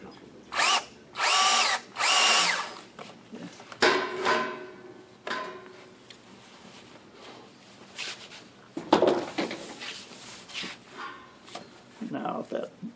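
A hand drill bores into the wooden top of an off-center lattice box in several loud, whining bursts separated by pauses, with a person talking between them.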